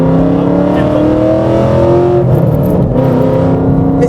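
A Ford Mustang's engine revs while driving, a loud, close, steady droning roar with rising and falling pitch, and people talk faintly beneath it.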